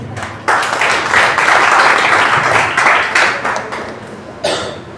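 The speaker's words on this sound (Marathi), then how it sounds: "कदाचित एसीचा फ्लो वाढला असेल त्यामुळे टाळ्या कमी होत्या" An audience applauds after a Marathi poetry recitation at a friends' poetry gathering, a crowd clapping steadily for about four seconds before tapering off, with a brief renewed burst near the end.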